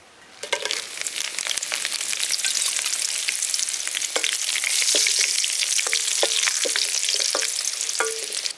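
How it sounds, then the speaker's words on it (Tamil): Dried chillies frying in hot groundnut oil for Pallipalayam chicken, a steady loud sizzle with crackles and pops throughout, no talking. "இப்போ வந்து விதை எடுத்து வச்சுருக்க மிளகாயை சேர்த்து வதக்க போகிறோம்."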